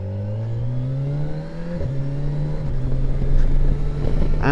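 A Kawasaki Versys 1100 four-cylinder motorcycle engine accelerates, its loud, close whine climbing steadily in pitch over a few seconds.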